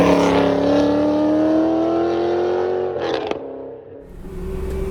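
An LS V8 in a Subaru BRZ roars hard on a track, its note climbing steadily as it accelerates, then a brief shift break and the engine settling back at lower revs, loud and close.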